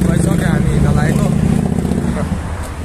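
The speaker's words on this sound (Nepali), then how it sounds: "Harley Davidson" A Harley-Davidson motorcycle rumbles past on a highway while people talk over it. The engine is a steady low drone that fades slightly toward the end.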